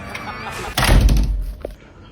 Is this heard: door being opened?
yes